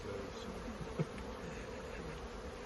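Honeybees buzzing in a steady, dense drone during removal of a hive, a continuous close insect hum with one brief louder burst partway through.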